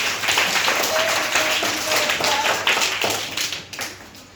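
Classroom applause for a child's correct answer, with children clapping loudly and near in a dense, steady patter that thins toward the end, under faint voices.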